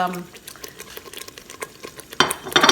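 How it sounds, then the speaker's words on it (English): Spices such as garam masala, cumin and coriander get stirred into a pot of meat curry, a scraping, shuffling spoon sound in scattered strokes that grows louder and busier near the end. "Give it a good stir."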